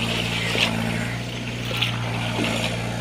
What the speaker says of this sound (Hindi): ये चल रहा है ट्रैक्टर